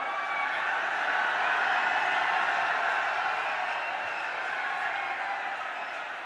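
A large rally crowd at Kotputli claps to welcome arriving leaders, a continuous, distant-sounding roar of applause that swells and then slowly eases, with a faint murmur of voices mixed in.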